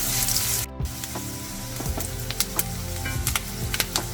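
Coconut pieces sizzle and fry in oil in a pan, a steady close crackle with scattered sharp pops and light stirring clatter, no voices.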